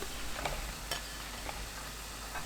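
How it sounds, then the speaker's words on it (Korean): Garlic scapes and king oyster mushrooms being stirred in a pan with broth, soy sauce, anchovy fish sauce and minced garlic over high heat: a few faint scraping strokes over a soft, steady simmering hiss. "마늘종 넣고 섞어주세요"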